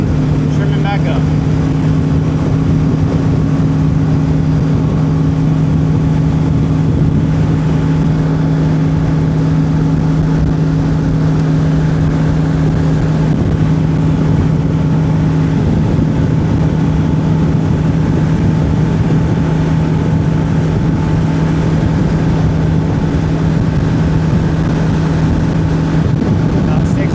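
A bass boat's outboard motor runs at full throttle with a steady, loud droning hum that holds constant throughout, mixed with rushing wind and water noise.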